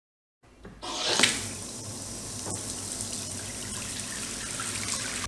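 Warm water pours from a tap into a whirlpool bathtub, a steady, close rushing stream that starts abruptly and continues without pause.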